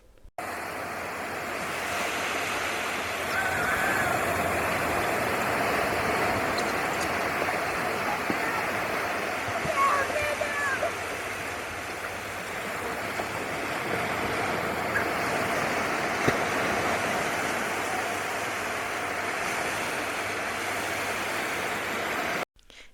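Waves wash onto the beach at Doolin, Ireland, with a constant broad roar of surf mixed with wind buffeting the microphone, steady throughout.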